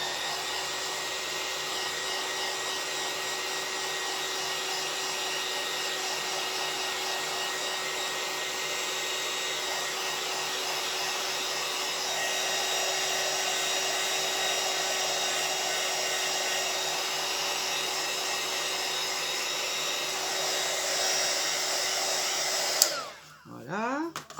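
Hair dryer drying a painted art journal page, a steady loud whirring blow with a high tonal whine that runs unbroken for over twenty seconds before clicking off with a brief knock.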